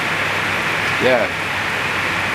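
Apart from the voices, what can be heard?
rain falling all night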